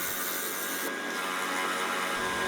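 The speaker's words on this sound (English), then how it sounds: "Notice I move the Forstner bit in slowly, little by little, and eventually I'll reach the full depth of the bowl." Forstner bit boring into a spalted sweetgum bowl blank spinning on a lathe at about 2,000 RPM, giving a steady, dense rubbing and cutting hiss that holds evenly throughout, close and alone.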